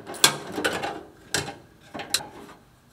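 Metal clicks, scrapes and small knocks from a bolted plate being worked loose inside the cabin of a vintage Porsche 911, a few close, sharp bursts separated by pauses.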